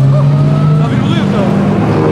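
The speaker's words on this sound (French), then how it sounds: "Gallardo Superleggera, ça fait magnifique, c'est top." A Lamborghini Gallardo Superleggera engine sounds loud and close in a short, steady, high-pitched howl with rising and falling tones.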